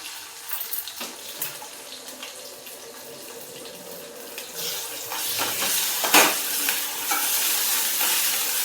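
Ground onion-coconut masala being stirred into a pan for brinjal curry, soft scraping at first that grows into a louder wet sizzle with clattering spoon strokes.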